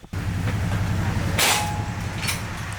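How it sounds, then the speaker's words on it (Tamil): Train pulling into a station near Ella, Sri Lanka, a low rumbling drone with a couple of brief hissing bursts over it, fairly loud and near. "ட்ரெயின் வருதுன்னு நினைக்கிறேன்."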